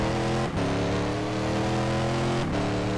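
A race car engine in a racing video game drones loudly at high revs, its steady harmonic tone dipping briefly twice as gears shift, then climbing again, with no talking over it.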